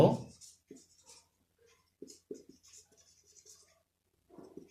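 A pen writes a fourth-grade math subtraction solution by hand on paper, making short scratchy strokes in bursts separated by pauses, close and quiet.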